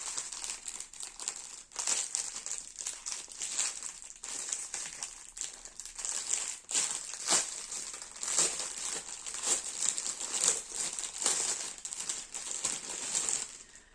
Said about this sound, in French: je fais encore un petit peu de bruit pour